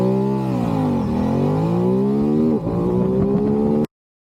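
A Ducati DesertX motorcycle accelerates hard on the road on block-pattern tires, its engine note climbing steadily through gears with a short dip at a shift, close and loud before cutting off abruptly.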